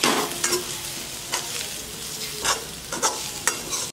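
Brinjal masala frying in a pan for khara vangi, stirred with a spatula that scrapes in several distinct strokes over a steady close sizzle, with no talking.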